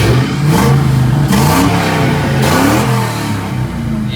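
A New Edge Mustang's engine revs hard in repeated bursts, the note climbing and dropping several times between blips, loud and close with no talking.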